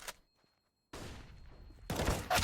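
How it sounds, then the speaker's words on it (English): Gunfire in a Counter-Strike: Global Offensive match, with bursts of rapid shots breaking out after a short quiet gap and growing louder and denser toward the end. "Shots going over."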